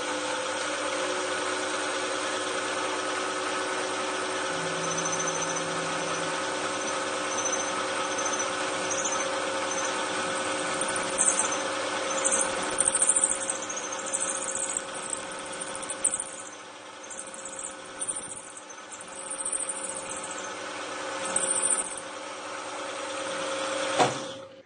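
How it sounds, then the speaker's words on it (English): A steady mechanical whir of a milling machine drilling an off-centre hole runs throughout, with intermittent high-pitched squealing and scraping as the cutter bites into metal. "hopefully I can do with a milling machine what I can't do with a drill"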